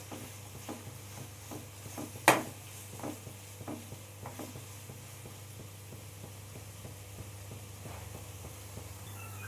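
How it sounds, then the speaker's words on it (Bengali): Onions frying in a pan until browned for mutton korma, with a steady low sizzle and repeated scraping stirs in an even rhythm, one sharp clank of a utensil against the pan partway through, and no talking. "পেঁয়াজটা আমি লাল লাল করে একবারে ভেজে নেব।"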